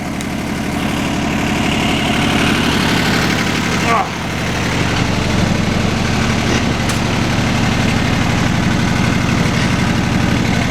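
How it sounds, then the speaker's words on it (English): A tractor engine idles in cold winter weather, a steady low rumble with a slight vibration that runs continuously and close by, with a brief dip near the middle. "We'll just go for a tractor ride"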